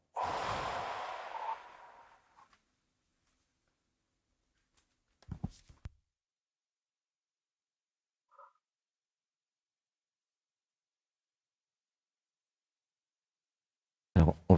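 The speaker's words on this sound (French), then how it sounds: "Une grande inspiration." A deep, audible breath drawn in during a guided breathing exercise, a soft airy rush lasting a couple of seconds, followed by long silence with a few faint, brief sounds.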